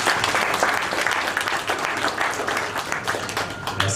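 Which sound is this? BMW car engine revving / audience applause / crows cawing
audience applause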